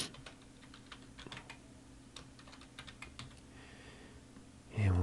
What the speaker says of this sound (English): Let's type MasterCard.